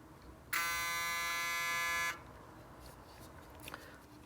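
A Panasonic ER-DGP72 professional electric hair clipper switches on and runs with a loud, steady, high-pitched buzz for about one and a half seconds, then cuts off, leaving quiet room noise.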